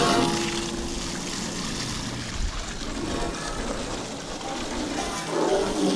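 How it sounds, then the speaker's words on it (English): An aluminum jon boat being washed down and scrubbed with water outdoors before painting, a steady broadband rush of spraying and splashing water with scrubbing noise that runs continuously at close range. "I'm gonna give this thing a little wash before I paint it."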